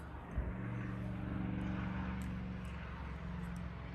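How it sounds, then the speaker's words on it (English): Fuel pump priming on a 2011 Honda CBR 1000rr motorcycle under rebuild: a low, steady electric hum with a faint buzz runs for a few seconds after a small click, quiet and close. "There's the fuel pump."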